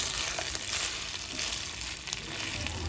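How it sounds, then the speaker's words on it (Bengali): Rice and chicken sizzle and crackle in a hot pan close by, a steady frying hiss with small bursts of spitting. "চালের সঙ্গে চিকেনের সঙ্গে এটা একটুখানি ফ্রাই করে নেবো"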